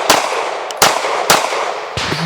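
Pistol shots ring out at steel targets on a shooting range during a drawing and reload drill: four sharp, loud cracks at uneven intervals, close by, with no talking.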